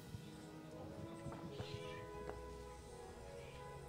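A cat meows a few times in short, faint cries over a murky background hum.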